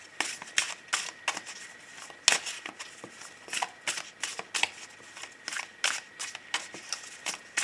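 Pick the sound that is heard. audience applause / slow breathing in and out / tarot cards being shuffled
tarot cards being shuffled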